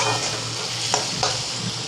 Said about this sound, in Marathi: आता आपल्याला हे मिरची छान परतून घ्यायची